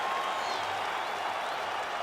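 Crowd cheering and applauding in a PS5 UFC video game after a fight goes the full distance: a dense, steady roar of clapping and cheering filling the whole moment, with no break.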